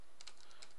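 Java code being typed on a computer keyboard: a quick run of light key clicks, about six taps in under a second, close and quiet with no voice over them.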